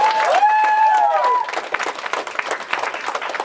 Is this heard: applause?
yes